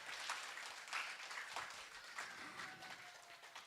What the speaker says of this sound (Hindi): जितने ही जोश के साथ डांस किया है उतने ही जोश के साथ हमारी ताली बजनी चाहिए